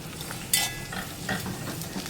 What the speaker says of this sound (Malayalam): ഇത് മൊത്തം ഇതിലേക്ക് ഇടുന്നു, ഒന്ന് ജസ്റ്റ് വറുത്തെടുക്കാം.